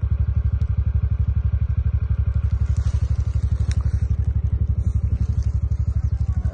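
A small scooter engine putters with a fast, even throb as it rides along a village road, steady and close, with faint rattles on top.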